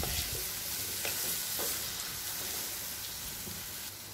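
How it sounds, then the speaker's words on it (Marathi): Red chili powder and turmeric sautéing in a pan on low gas for a rassa curry, with a continuous soft sizzle broken by scraping stirring strokes, no voices. "थोडंसं लाल तिखट, हळद। आता हे परतून घ्यायचं चांगल्या पद्धतीने।"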